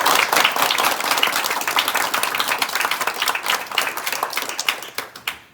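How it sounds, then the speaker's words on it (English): Dense audience applause for candidates at a community forum, a loud, continuous patter of many hands that gradually thins and fades out at the end. "Let's give them a round of applause now before we get the event started."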